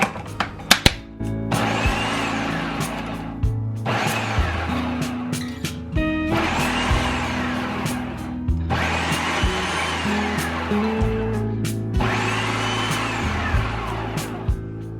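A food processor chops apples and cranberries for a fermented relish, whirring loudly in several pulsed bursts of a few seconds each, separated by short pauses and clattering.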